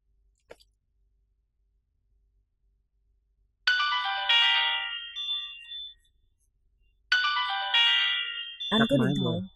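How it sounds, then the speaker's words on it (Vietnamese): A telephone rings in an office setting with two bright, tonal electronic chime bursts separated by a pause, loud and close, with a voice starting to speak just as the second ring ends. "Anh có điện thoại."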